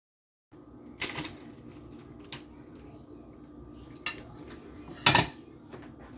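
Garlic knots and garlic bites tossed in garlic butter sauce in a bowl, quiet soft shuffling with a few sharp clinks of utensil against the bowl, two louder clatters standing out.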